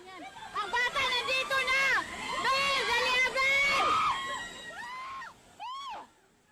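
Panicked people scream and shout during flooding in Quezon City after heavy rain, several high, wavering cries overlapping in a close, loud crowd before a final pair of shrieks.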